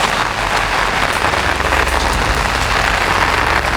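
Heavy rain pours down in a rainforest, a dense, loud, continuous patter on leaves and surfaces with no break.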